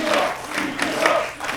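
A wrestling crowd at a PPW showcase match roars and cheers after a near fall, a loud, sustained, surging wall of shouting voices.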